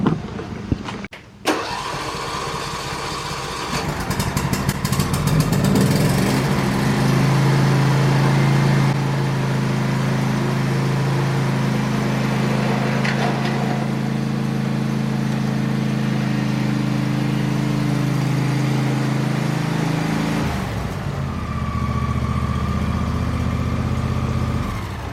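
A John Deere S130 lawn tractor engine cranks, catches and settles into a steady, close mid-pitched running drone outdoors, holding for about twenty seconds before the tone drops and changes near the end.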